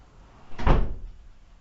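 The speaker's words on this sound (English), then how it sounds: "I'm just going to close this door because that dog is doing my head in" A single door is pushed shut indoors, giving one soft, close thud with a brief rattle and no voices.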